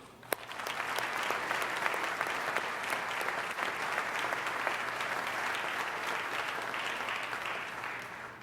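A crowd breaks into applause, quickly building to a sustained, even clapping that continues for several seconds before tapering slightly at the end.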